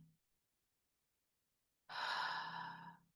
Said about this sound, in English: Just breathing the peaceful breath in and out.